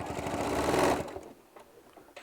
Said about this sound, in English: I'm just holding my machine in place for a second to lock those stitches in.